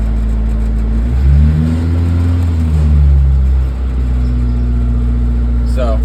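A Suzuki Samurai engine running on choke after sitting a few days, a loud steady idle that rises and falls as the revs swell twice before settling, with a person speaking over it.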